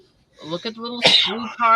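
A single sharp sneeze bursts out in the middle of indoor conversation between people handling a metal-detecting find.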